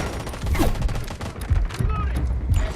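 Gunfire in the mobile shooter Delta Force Mobile: several rapid bursts and sharp shots with impacts, dense and loud over game ambience, alone without clear talk.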